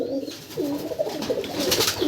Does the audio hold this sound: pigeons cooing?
yes